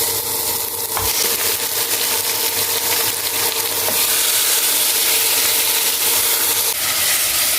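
Marinated mutton meat hitting a hot pan for curry: a strong, steady sizzle and hiss of frying with occasional stirring clinks, loud and continuous with no talking.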